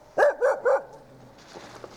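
A guard dog gives three quick, loud barks close by, evenly spaced, then falls quiet while faint background noise and a soft rustle carry on.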